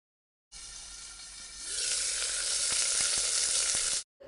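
Loud, close sizzling of mustard and fenugreek seeds in hot sesame oil builds up and crackles steadily for a few seconds, with a few soft pops, then stops.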